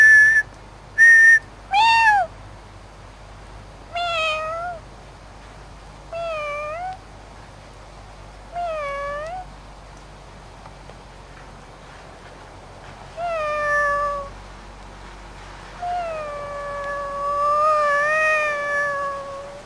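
A person imitates cat calls, producing a series of rising and falling meow-like whistled calls in the wild while trying to attract a bald eagle, repeated with pauses and growing longer toward the end, with no other talk.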